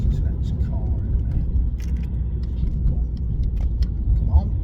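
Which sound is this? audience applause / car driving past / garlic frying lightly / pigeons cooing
car driving past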